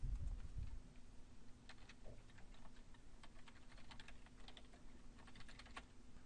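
Keys clatter at a quiet, steady pace on a computer keyboard while a username and password are entered, a soft run of close clicks over a faint background hum.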